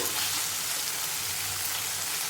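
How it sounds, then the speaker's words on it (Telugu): Asafoetida sizzling in hot oil for temple-style mustard tamarind rice, a steady close hiss of frying with dense crackle that holds evenly throughout, then cuts off abruptly at the end. "నూనెలోనే వేసుకోవాలండి ఇంగువని అప్పుడు వీటితో పాటు సమానంగా వేగిపోతుంది"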